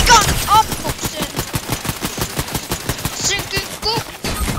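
Rapid automatic gunfire from a Fortnite match, a dense stream of sharp shots running the whole time with a few louder bursts, close and loud, with occasional in-game effect chirps layered over it.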